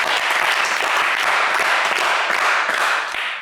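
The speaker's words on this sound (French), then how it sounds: "On vous applaudit." Audience applause on a TV quiz show, a dense, steady burst of clapping lasting a few seconds.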